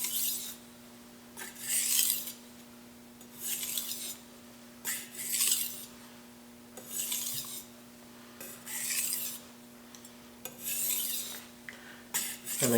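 A Shun Premier kitchen knife is drawn across a 5000 grit whetstone in steady, rasping strokes, about a dozen evenly spaced scrapes close up over a faint constant hum, with no talking.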